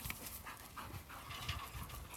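Farm dogs pant close by in quick, steady breaths, with a faint whimper and no talking.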